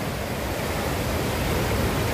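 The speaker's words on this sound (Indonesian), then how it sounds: "lautan yang bergemuruh." Roaring ocean surf at Holtekamp beach in Jayapura, Papua, during a season of big waves, forms a dense, steady, loud wash of noise that fills the whole clip with no break and no voices.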